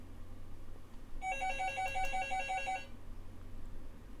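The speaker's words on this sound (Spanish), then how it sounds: "Voy a hacer una pausa que llaman al teléfono." A telephone rings indoors with a single bright, trilling electronic ring lasting about a second and a half, moderately loud over a low background hum, then stops.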